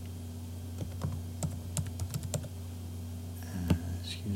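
A password being typed on a computer keyboard, heard as a short burst of distinct, close key clicks with small pauses between presses, over a steady low hum.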